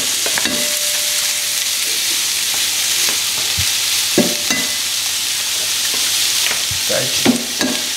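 Food heating in a pan while being stirred, for a goat cheese and bacon tart with eggs and cream, giving a steady close sizzle with repeated scraping and clinking taps; no talking.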